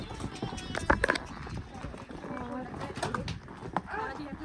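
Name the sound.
horses' hooves clip-clopping on a trail at Kufri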